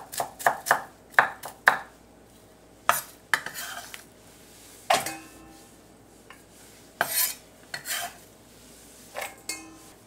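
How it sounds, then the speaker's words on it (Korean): Knife chopping vegetables finely on a board for a salted mackerel and radish stew, in short bursts of quick sharp taps separated by pauses, close and clear with light clatter. "이렇게 잔잔하게 그냥 썰어주는 겁니다"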